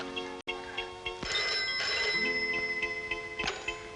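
An indoor telephone rings with repeated, evenly spaced bell-like tones over several seconds, fairly quiet and with no talking.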